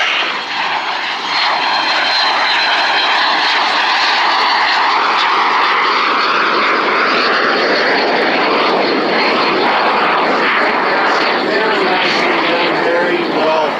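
An Aero L-39C Albatros jet trainer, yellow 35, flies low and slow past at an air display, making a loud, sustained engine roar with a whining tone that swells and shifts as it passes.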